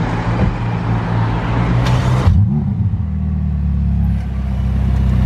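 A McLaren Senna pulls away on a customer test drive, its deep engine rumble loud and close before easing into a steadier, lower drone as it moves off.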